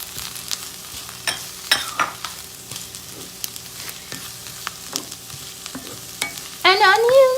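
Minced ginger and garlic go into a pan for saag paneer, with scattered stirring scrapes and soft sizzling, then a sudden louder hiss of frying near the end.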